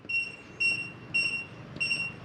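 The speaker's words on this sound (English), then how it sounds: "press the black programming button in the middle of the back. It'll beep at you one time." A Kwikset 914 smart deadbolt gives four short, shrill electronic beeps at an even pace, close and clear over faint room noise, after its black programming button is pressed.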